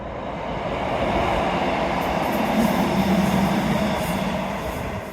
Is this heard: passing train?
yes